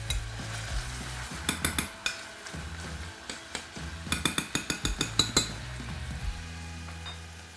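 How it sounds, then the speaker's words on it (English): Steady sizzle of bacon frying in a pan, broken by clinks and scrapes of a utensil stirring, with bursts of sharp crackling pops. "So the bacon's frying in a pan, it's rendering out the fat"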